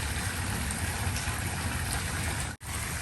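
Water flows steadily from a small backyard waterfall feature, a constant close splashing rush with a brief dropout near the end, and no talk.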